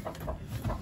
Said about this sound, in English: we got the old chicken.